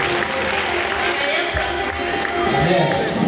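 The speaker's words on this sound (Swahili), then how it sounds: "Wacha tumpe makofi mazuri anapenda kukuta." A church congregation claps at a service, a dense steady applause that runs the whole time with a voice speaking over it.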